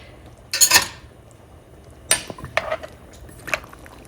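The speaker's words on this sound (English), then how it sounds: "Now I'm going to add some carrot chunks and quartered mushrooms" Carrot chunks and quartered mushrooms go into a pot of beef stew, bringing a loud clattering rattle near the start and then a few lighter utensil clinks against the pot, close by in a quiet kitchen.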